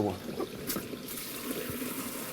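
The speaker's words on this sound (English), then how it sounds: "push the larger button, which is going to open the valve, and you'll see it's actually cleaning as well" Water rushes steadily as the flush valve of an RV toilet opens and rinses the bowl, a close, continuous wash lasting a couple of seconds.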